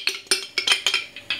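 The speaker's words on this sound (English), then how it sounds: "that's the mayonnaise I'm putting in" Spoonfuls of mayonnaise knocked into a bowl for potato salad: a quick series of about six light metallic clinks and taps of a spoon against the bowl, close and fairly crisp, with no speech.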